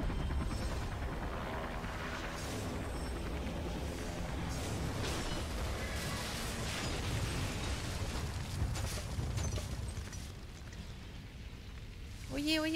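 Fireworks in the video game Beyond Two Souls, a dense crackling, popping barrage over a low rumble, thinning out toward the end, where a brief tonal sound appears.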